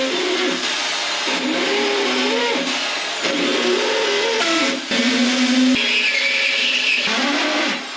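A rotary cutter grinding slots out of seized cheese head screws on a Victorian radial drilling machine, a loud whirring, shifting mechanical whine that rises and falls in pitch across several cutting passes.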